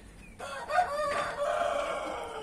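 A young naked-neck rooster gives one close, loud crow that starts abruptly and holds a drawn-out call for about two seconds, with nothing else heard over it.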